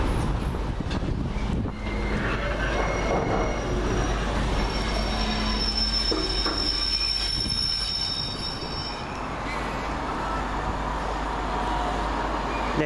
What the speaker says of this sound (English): I think that's just waiting for the 1152 to Piccadilly to pass through.